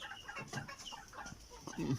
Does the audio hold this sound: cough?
no